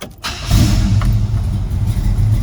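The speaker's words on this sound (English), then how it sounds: "we'll just fire it up now" A restored yellow 1968 Chevrolet El Camino's engine cranks briefly, then catches and settles into a loud, steady rumble close by.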